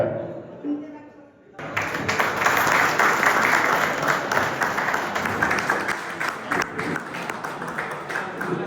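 Audience applause at a prize-giving ceremony for a local cricket league, a dense wash of many hands clapping that bursts in after a quiet start and keeps going steadily to the end, with voices mixed in.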